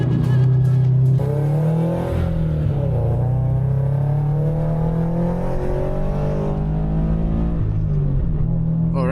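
Subaru BRZ track car lapping a race circuit at Toronto Motorsports Park, engine droning loud and steady from inside the cabin with rising and falling revs through gear changes, some tire noise underneath.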